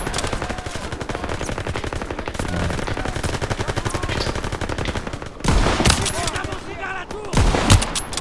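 Rapid automatic fire from an STG-44 rattles steadily in a video game, then louder, heavier sniper-style shots burst in near the end, close and loud, with a voice faintly underneath.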